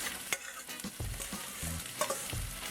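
Shrimp with pepper seasonings sizzling in a hot pan while being stirred, with scraping and clinking of the utensil over a steady frying hiss, fairly quiet and close.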